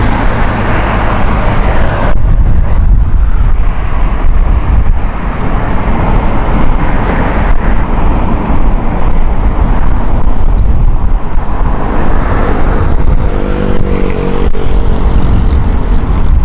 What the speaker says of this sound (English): This is the 777 here. It sounded painful, that, Bruce.